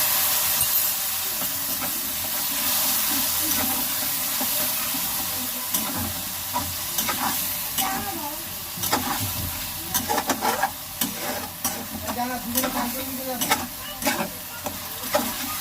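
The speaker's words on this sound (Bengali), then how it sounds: "মশলাটার কাঁচা গন্ধ চলে যাবে, ভালো করে ভেজে নেব" Spice paste, ground masala mixed with water, sizzles in a pan after grated coconut has been fried, with a steady bright frying hiss and frequent scraping stir strokes that turn louder and more clustered toward the end; no one talks.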